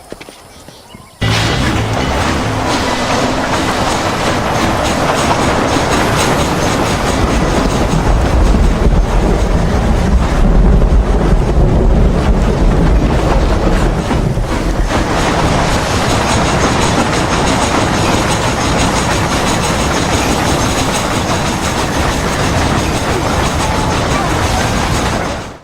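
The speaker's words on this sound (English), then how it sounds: "Then get on that train as fast as you can, Young." A steam train rolls along in a Wild West game cutscene, a loud continuous rumble of wheels and clattering rail joints with faint hoofbeats mixed in, carrying on steadily for over twenty seconds.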